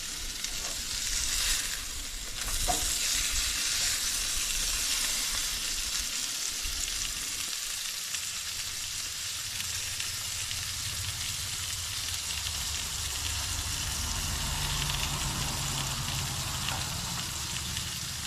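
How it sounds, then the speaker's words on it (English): Steady, crackling sizzle of stuffed burgers frying in a pan, a broad hiss continuing without pause, with a faint low hum underneath and a few clatters early on. "I know you can still hear sizzling because I got a couple more burgers going."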